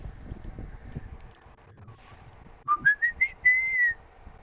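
Someone whistling on a played video, a short series of rising, warbling whistled notes that follows a quieter stretch of low background rumble and soft noise.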